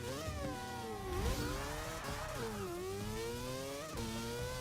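A race car engine in the Forza 6 video game drones and whines continuously, its pitch sliding up and down through gear changes and revs, steady and fairly loud with no talk over it.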